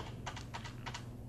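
Keys on an RGB mechanical keyboard click in a quick, close run of about six crisp taps against a steady low background noise.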